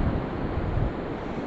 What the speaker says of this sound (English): It is a windy day, so there's a little bit of ripple on the water.